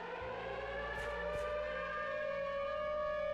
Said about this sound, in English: It will create this loud siren noise.